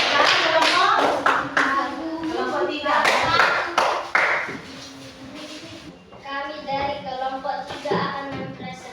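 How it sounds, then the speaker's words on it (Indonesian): Classroom applause for a student group, a burst of quick, close hand claps from children with some chatter that thins out into scattered claps and talk. "tepuk tangan untuk kelompok 2"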